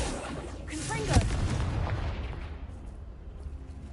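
A Confringo spell explodes in Hogwarts Legacy with a sharp, booming crack that swells and then rolls away into a long rumbling decay, loud and close.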